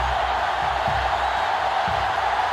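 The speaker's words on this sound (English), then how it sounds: "This crowd is almost shaking the stadium." Stadium crowd in the GameCube football game NCAA Football 2005 roars continuously, a broad sustained wash of noise with faint low murmurs beneath.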